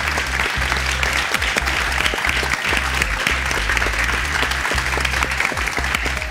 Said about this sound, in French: tout le monde mérite une bonne main d'applaudissements